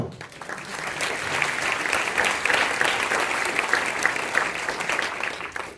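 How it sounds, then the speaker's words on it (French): A crowd at an ecology convention applauds a speaker, with steady, full clapping lasting several seconds and a few brief voices mixed in. "On peut l'applaudir"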